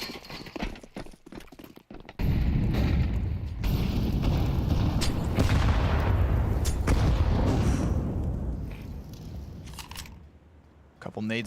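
Grenade blasts in a Counter-Strike match land as a dense, loud, rumbling burst of explosions that swells for several seconds and then fades, with sharp clicks and game sounds before and after.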